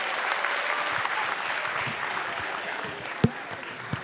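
Audience applause fills the room at a stand-up comedy semifinal, a steady, full wash of clapping heard close, with a couple of sharp individual knocks or claps popping out near the end.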